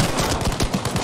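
Rapid gunshots from Battlefield V gameplay, a burst of several cracks in quick succession, loud and close, with no talking over them.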